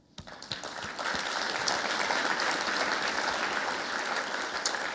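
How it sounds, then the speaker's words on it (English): A full conference room audience at a business leadership event in Singapore breaks into sustained applause, starting with a few claps and quickly swelling into dense, steady clapping that continues to the end. "I think that's worth an applause, don't you?"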